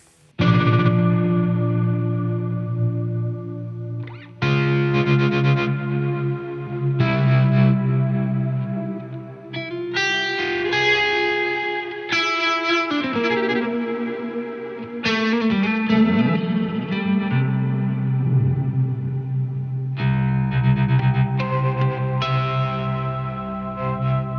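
Electric guitar played through a heavy effects pedal, distorted chords and notes with a warbling, chorus-like shimmer and echo, loud and continuous with no talking.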